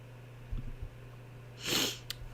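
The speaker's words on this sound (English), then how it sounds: "I'm trying not to sneeze" Sniffing and snorting from someone holding back a sneeze: two short nasal bursts, then a longer, stronger breathy snort and a brief sharp sniff, close and fairly quiet over a low steady hum, with no talk.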